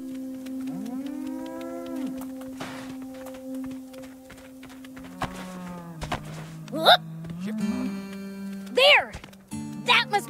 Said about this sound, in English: Was that a cow I just heard?